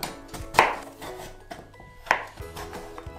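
A knife cuts the tough skin off a pumpkin on a cutting board, sharp irregular chops and scraping strokes, close and distinct, with two louder cuts among lighter taps.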